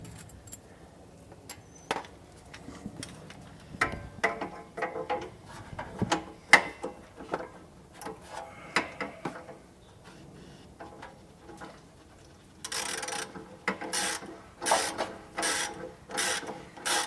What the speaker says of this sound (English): I'm showing how it can be done with just a regular ratchet